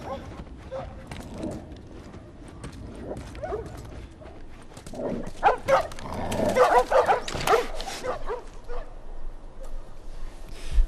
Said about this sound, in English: where those dogs were fighting in the street